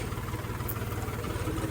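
A Hindustan tractor engine labours under full load with a steady, throbbing low rumble and a regular beat. It is fairly close and continuous, with no talk.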